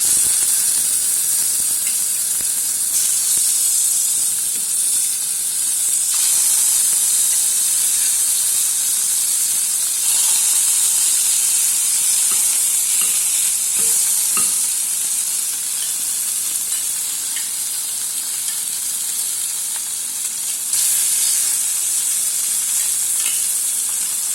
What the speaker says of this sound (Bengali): বেশ ভালো গরম হয়ে গেছে, মাছগুলো ছেড়ে দিচ্ছি।